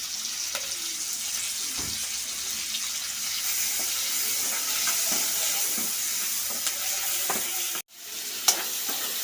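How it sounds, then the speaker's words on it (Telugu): Onions and tomatoes cooking in a pan with salt, a continuous soft sizzle with occasional stirring scrapes and a short clunk toward the end, no talking. "ఆనియన్స్ ఇంకా టమాటాలు కుక్ అవుతున్నాయి కదా"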